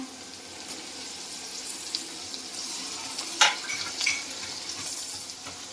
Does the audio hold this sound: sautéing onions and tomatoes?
yes